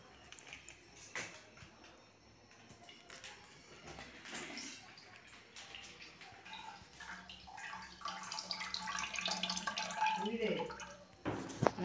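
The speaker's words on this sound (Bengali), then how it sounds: "আমি দুধটা কেটে হাঁড়ির মধ্যে দিয়ে দেবো" Milk poured from a cut packet into a cooking pot gives a soft, steady liquid gush and splash in the latter half, fairly faint under a person talking.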